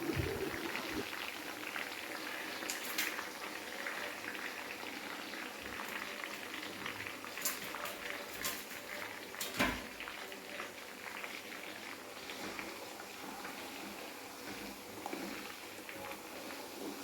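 Ground herbal hair-oil mix with fenugreek and pepper simmering in hot oil, a steady bubbling hiss with faint crackles running throughout, close and continuous with no talk.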